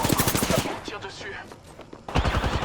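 Bursts of rapid gunfire from a shooter video game, loud and close, with one volley at the start and another near the end and quieter game sounds in between.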